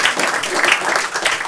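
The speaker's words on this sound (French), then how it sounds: "Je vais demander à toutes les personnes typées blanc ou blanche d'applaudir." A comedy club audience applauding on cue, with loud dense clapping spread through the whole short stretch and no break.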